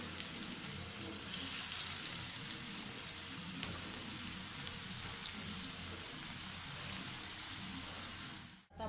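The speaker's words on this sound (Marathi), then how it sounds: "आता एका बाजूने मस्त खरपूस हे आपण फ्राय करून घेऊया" Soya kababs fry in a pan over a low-to-medium gas flame. A steady, dense sizzle crackles throughout, fairly close, with one sharp clunk at the very end.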